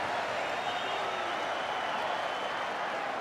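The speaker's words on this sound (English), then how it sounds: "The crowd absolutely having a picnic here tonight." A stadium crowd at a rugby league match between the Auckland Warriors and the Brisbane Broncos gives off a steady, distant roar of cheering and clapping. The sound runs unbroken throughout, with no clear speech over it.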